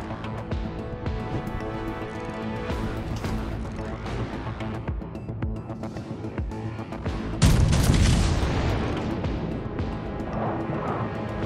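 Battleship Hood's naval guns firing in the World of Warships Legends game, with deep booming salvos, a heavy crash near the middle and an ongoing rumble of battle sound effects, loud and close.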